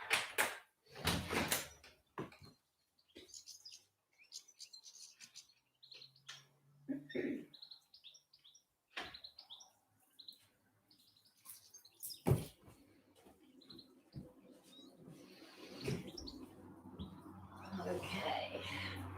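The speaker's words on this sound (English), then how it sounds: "I will open my window and see if the birds can give us a nice background." Small birds chirp and tweet outside an opened window, scattered short calls near and far with quiet gaps, joined by some knocks and handling noises and a rising wash of outdoor ambience toward the end.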